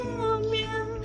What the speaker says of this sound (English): I love the sad meow song for this